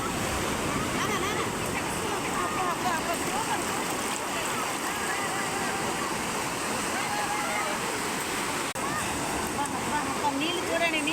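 Ocean waves surging onto a beach in the evening, a steady broadband wash of surf that rises and falls continuously throughout, with a person talking excitedly over the water.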